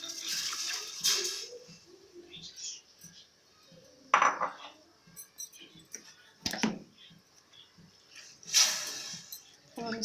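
Chicken and lentils for shami kabab are mixed by hand in a kitchen, giving intermittent clattering and scraping bursts of utensils against a dish, some sharp and close, with quieter handling noise between them.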